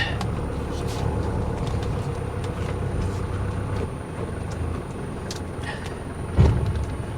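A 1983 Mercedes 240D engine idling with a steady, close low rumble, a single louder thump near the end.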